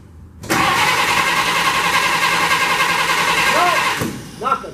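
A 1948 Pontiac Torpedo sedan's engine cranks steadily for several seconds without catching, the starter whirring close and loud, then it stops and voices follow briefly.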